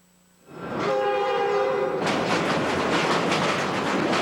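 Via Rail passenger train in a TV advert gives a long, loud horn blast with clear layered tones. The horn cuts off into a heavy, steady rumble and clatter of the train rolling past at close range.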